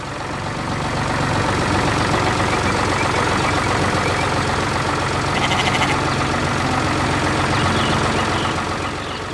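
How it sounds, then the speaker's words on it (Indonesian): A red farm tractor's engine runs steadily in a cartoon spring farm scene, a loud, dense, continuous rumble with a heavy low drone that holds at an even level from start to finish. "Dengan suara mesin yang tenang, traktor itu menggerakkan tanah dan menanam kehidupan baru."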